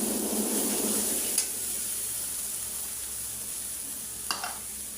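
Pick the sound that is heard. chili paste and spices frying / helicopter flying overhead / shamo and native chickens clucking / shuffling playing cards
chili paste and spices frying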